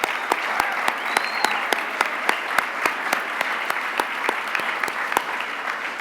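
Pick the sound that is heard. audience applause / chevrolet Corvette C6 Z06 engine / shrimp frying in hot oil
audience applause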